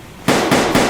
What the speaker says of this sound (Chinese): 开枪声